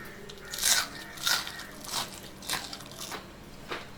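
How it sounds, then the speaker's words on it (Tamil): Crispy fried roadside-style mushroom and cabbage pakoda is bitten and chewed up close, producing a series of about six crisp crunches at a steady pace, the first ones loudest. "எந்த அளவுக்கு முருகலாக இருக்குன்னு சாப்பிட்டு பார்த்துருவோம்"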